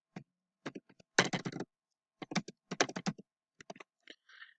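A folder title is typed on a computer keyboard in short bursts of quick, close, crisp key clicks separated by brief pauses.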